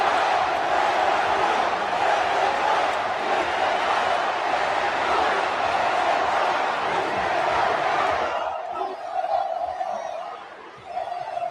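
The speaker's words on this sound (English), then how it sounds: "And the crowd's going, let them fight." An AEW wrestling crowd roars in a loud, sustained mass of voices, apparently chanting together. The noise holds steady for about eight seconds, then drops sharply to a thinner murmur.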